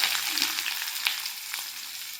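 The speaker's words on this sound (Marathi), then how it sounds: "आता मी 1 वाटी बारीक चिरलेला कांदा घालणार आहे बघा सगळ्यात पहिल्यांदा." Finely chopped onion sizzles and fries in hot oil with cumin, a steady bright crackle with occasional sharper pops and light stirring.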